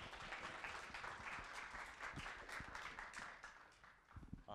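Steady applause from an audience at a youth activities forum, a dense wash of clapping that holds evenly for a few seconds at moderate level.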